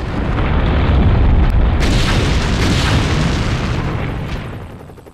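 Nuclear test explosion in the Nevada desert, a loud sustained rumbling blast with deep roaring low end that holds for several seconds before slowly subsiding.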